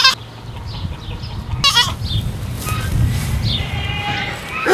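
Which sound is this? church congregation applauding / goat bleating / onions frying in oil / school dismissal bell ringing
goat bleating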